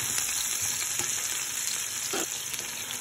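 Chopped onions and spices frying in a hot pan for a chana dish, a steady close sizzle with a few soft stirring scrapes and no voices.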